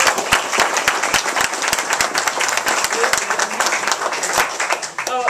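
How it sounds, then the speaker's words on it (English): Applause from a town hall meeting audience on reapportionment, dense and steady clapping filling the room at close range, with a few voices mixed in and a brief spoken word near the end. "I just want a round of applause for Irene and Owen,"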